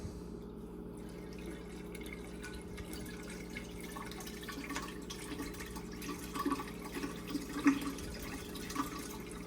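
Water pours steadily out of an HVAC drain line on a new Trane system with a refrigerant restriction, a faint continuous trickle and splash with a low hum beneath it.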